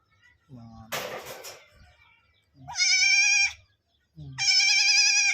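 A newborn goat kid bleats from hunger, loud and close, giving three long, strained cries with pauses between them, while a person speaks softly at the start.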